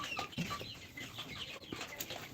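Chickens at a poultry farm, birds about 47 days old and ready for laying, cluck in short scattered calls over a faint background murmur, no speech.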